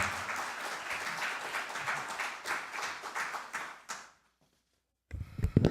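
An audience gives steady applause to welcome a speaker to the stage at the founding ceremony of a Korean cognitive science industry association. The moderately loud clapping fades out at about four seconds, followed by a short silence and some brief noise.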